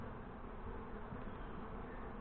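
Honey bees at a yellow bowl feeder on a new nuc hive in northern Michigan make a dense, steady buzzing close by, with no voices.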